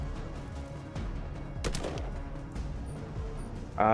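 A short burst of gunfire crackles in the video game Colony Ship, a post-Earth RPG, as a dense run of rapid shots over low rumbling game sound that swells toward the end.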